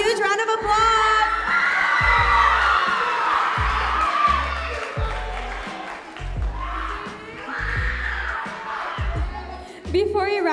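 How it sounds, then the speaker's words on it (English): Live arts competition audience cheers, whoops and claps after a performer is congratulated. A crowd roars throughout while a voice speaks over it and thumping music beats underneath. "Let's give her a huge round of applause."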